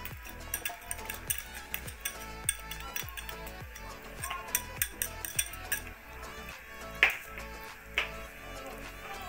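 Spoon stirring a semolina milk dessert with vanilla and butter in a pot on the stove, rhythmic scraping and clinking strokes at a steady pace, close and fairly quiet.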